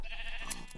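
A single short sheep bleat in Minecraft, close and moderately loud, lasting under a second without talk.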